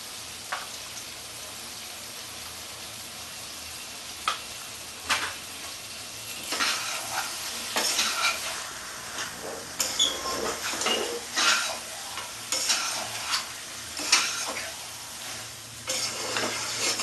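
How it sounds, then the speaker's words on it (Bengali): Salted chicken pieces for Bengali-style biryani are stir-fried in a pan, a constant close sizzle broken by repeated scraping stirs and clanks of a spoon against metal, faster in the middle stretch. "সুন্দর করে কষতে হবে মাংসটা"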